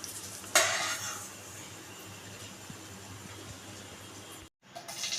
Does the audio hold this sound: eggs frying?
yes